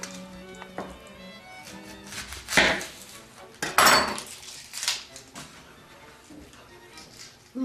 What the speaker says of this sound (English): you cut them small like the other ingredients